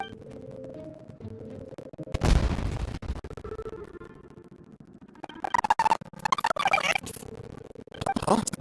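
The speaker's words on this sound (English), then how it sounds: "It sounded like fireworks." Fireworks in Genshin Impact go off as a sudden loud boom followed by a burst of crackling pops and scattered bangs, loud and close, with quieter game music and effects between them.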